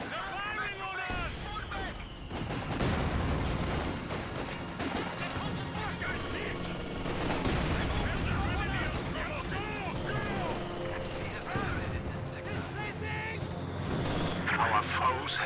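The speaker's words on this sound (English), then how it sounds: "They're firing on us!" Battle din from Company of Heroes 2: dense overlapping gunfire, bursts of machine-gun fire and booming artillery run throughout. Voices shout over the steady roar.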